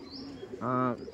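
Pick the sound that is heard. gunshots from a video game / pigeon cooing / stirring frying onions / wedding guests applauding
pigeon cooing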